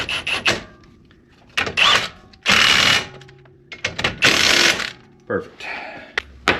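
Impact wrench tightening wheel bearing bolts on a 2013-18 Ram 2500-3500, in several short loud rattling bursts separated by pauses, with someone talking between them.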